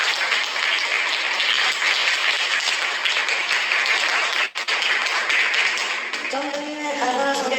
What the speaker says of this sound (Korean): 강충 기자 선생님 박수로 맞이해주십시오